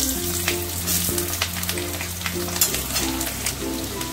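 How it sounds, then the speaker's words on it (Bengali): Potato pieces frying in hot oil over a low-to-medium flame with salt and turmeric, giving a steady close sizzle and crackle that holds evenly throughout, with no voices. "আলুগুলোকে না একটু নুন আর হলুদ দিয়ে কম আঁচেতে একটু ভালো করে ভেজে নেবো"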